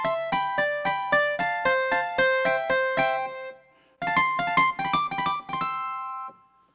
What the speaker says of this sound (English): So now it's very harpsichord-esque.